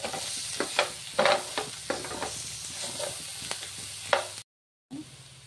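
Ginger garlic paste fries in a pan with a soft steady sizzle, broken by several sharp scraping stirs of a spoon, then a brief silence before the sizzle resumes.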